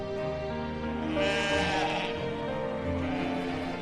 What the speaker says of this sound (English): there is a renewed enthusiasm for goat farming in Lumaka. The number of goats has increased